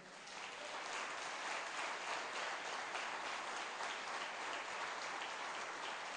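A congregation at a church service applauding, dense steady clapping from a large crowd that rises quickly and holds at an even level throughout, no talking.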